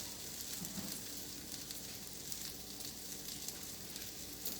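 Bruschetta topping with fresh garlic sizzles in a hot pan, a quiet, steady frying hiss with no talking, continuous and even throughout.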